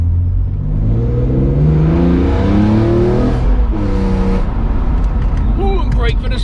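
A BMW E46 M3 CSL with an SMG gearbox accelerates hard in S6 with traction control off. The engine note climbs steadily from inside the cabin, shifts briefly and then climbs again, loud and continuous, with occasional speech over it.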